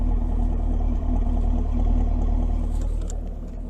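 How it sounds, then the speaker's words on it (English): Deep, steady exhaust rumble from a 2022 Chevrolet Camaro 1SS 1LE idling nearby, low and throaty with a constant hum, no talking. "But this exhaust, just listen to that."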